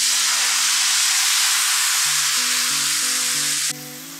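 Rava dosa batter sizzles loudly on a hot oiled pan, a dense continuous hiss with a faint tonal beeping underneath, the sizzle dropping slightly near the end.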